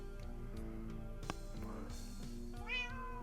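Cats meow repeatedly in a space someone is exploring, with rising, drawn-out cries toward the end over a steady background hum.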